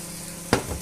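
Omelette being turned over in a frying pan: one short scraping stir or flip sound that rises briefly over a soft, continuous sizzle, heard close and alone.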